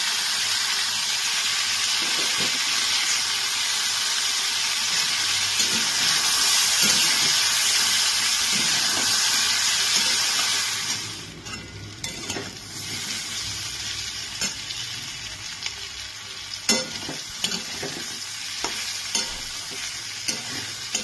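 Pumpkin and bitter gourd sizzle loudly in a hot pan with salt, sugar and turmeric, a steady close frying hiss for about ten seconds, then quieter crackling with scattered spatula clinks as the mixture is stirred.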